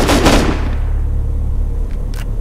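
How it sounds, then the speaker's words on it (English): Gunfire in the video game Rust, with a loud burst of rapid shots at the start that trails off into a steady low rumble, with faint clicks later. "That's a lot of shots."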